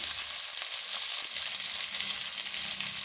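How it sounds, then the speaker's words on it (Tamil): Onion and dried red chillies sizzle in hot oil in a pan for a banana stem stir-fry, a steady bright crackling hiss throughout with no talk. "இப்போ இந்த ஸ்டேஜில் நம்ம கட் பண்ணி வச்சுருக்க வெங்காயம் வரமிளகா சேர்த்துக்கலாம்"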